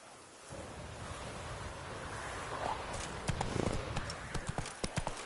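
Roach the horse's hooves in The Witcher 3, clopping on the ground in a loose, uneven rhythm that grows sharper and more distinct toward the end, set against a steady wash of wind and surf-like ambience.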